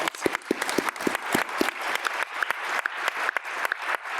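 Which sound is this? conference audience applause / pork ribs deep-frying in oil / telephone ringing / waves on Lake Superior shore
conference audience applause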